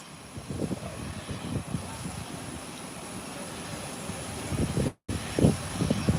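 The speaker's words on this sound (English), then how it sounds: "American Airlines has made its 180 degree and is now probably waiting flight instructions to take off" American Airlines airliner completing a 180-degree turn on the runway before takeoff, a steady distant engine rumble and whine with low rolling noise and wind, a brief dropout midway, no speech.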